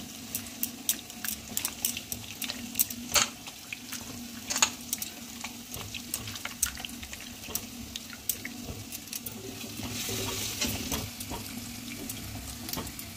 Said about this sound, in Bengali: এদিকে আমার আদা আর রসুনটা ভাজা ভাজা হয়ে গেছে